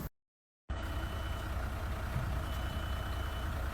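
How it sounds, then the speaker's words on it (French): A bus on a Dubai street. After a brief silence, a steady engine rumble rises and holds, with a faint high tonal whine above it. No voices. "Ah, il y a le bus."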